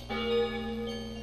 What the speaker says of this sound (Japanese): 鐘を鳴らしました。